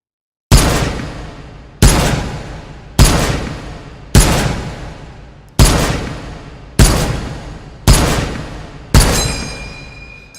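An M1 rifle fires eight loud, sharp shots at an even pace of a little over a second apart, each ringing out briefly before the next, with a metallic ping right after the last shot.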